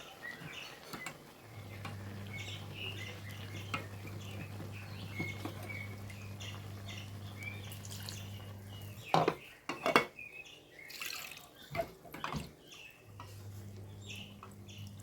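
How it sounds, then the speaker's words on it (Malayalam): Crab fry being stirred in a pan, with scattered scrapes and clinks of a utensil against the cookware and a steady low hum beneath, sharper clatters bunching near the end. "ഒന്ന് ഇളക്കി കൊടുക്കാം കേട്ടോ"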